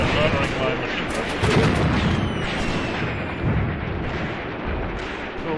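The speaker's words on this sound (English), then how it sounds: "the Russians seem to be using their own artillery here as well" Artillery fire in the Graviteam Tactics war game rumbles loud and continuous, heavy booms and blasts overlapping into a dense roar that never lets up.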